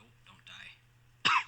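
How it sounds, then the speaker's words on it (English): A person coughs or clears their throat twice, with a soft, short hack followed by a sharper, louder cough, close and quiet, with no talking alongside. "Cough it out, cough it out."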